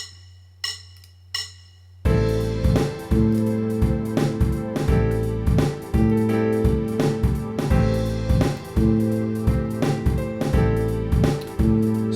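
After a few count-in clicks, a practice app's full backing track loops one chord with a steady drum groove and sustained bass and keys, no voices.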